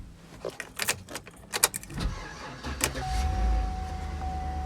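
A used car at a government auction cranks briefly and catches, settling into a low, steady idle close by, preceded by clicks and clunks from inside the cabin.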